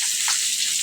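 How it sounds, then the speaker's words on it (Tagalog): Fish frying in a pan, a steady bright sizzle of hot oil that holds even and close for under a second with no voices. "Ayan, ang isda natin prito. Ayan, prito tayo."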